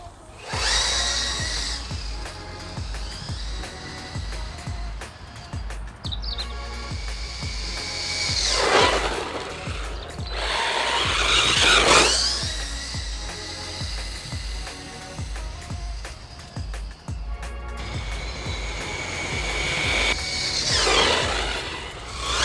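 WLtoys 104001 RC car with a brushless conversion on stock gearing running continuously, giving a high, whining motor buzz that rises and falls in pitch as it speeds up and passes, with no talking.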